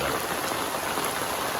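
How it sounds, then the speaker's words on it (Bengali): Heavy rain pours steadily over a village home in the monsoon, a dense, even hiss of drops on surfaces with no pauses across the short stretch. "এখন আবার বৃষ্টি বাড়তেছে"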